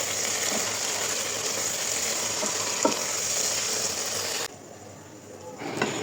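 Vegetables going into a frying pan of hot oil for a rui fish curry with potato and eggplant, giving a steady loud sizzle with stirring, a brief clank near the middle, then a drop to quieter frying.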